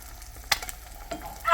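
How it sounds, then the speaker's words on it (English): An egg frying in a pan gives a quiet, steady sizzle with a couple of brief crackles and spatters, heard alone with no talking. "And now I am frying an egg."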